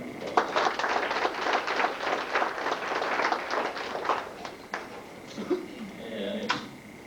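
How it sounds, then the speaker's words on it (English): Round of applause from an audience at a 2002 FFA awards gathering, moderate clapping that builds then fades to scattered claps, with faint voices near the end. "Give them a round of applause."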